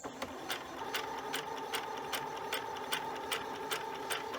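A sewing machine runs a one-step automatic buttonhole, its needle striking in a quick, even clatter over a steady motor hum, close and fairly quiet with no voices.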